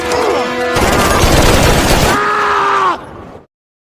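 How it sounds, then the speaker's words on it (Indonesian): Heavy, brutal gunfire rattles in a war film about special forces raiding a Taliban base: a dense, loud stream of shots over a tonal music bed that cuts off abruptly into silence. "Kovac pun langsung menyerang dengan tembakan brutal."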